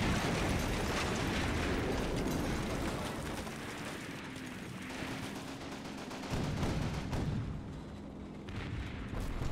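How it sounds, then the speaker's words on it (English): Sustained machine gun fire in the Combat Mission wartime strategy game, a dense, loud, continuous rattle of automatic bursts mixed with heavy battle noise throughout, with no voices. "Oh my god, there's a machine gun on that right."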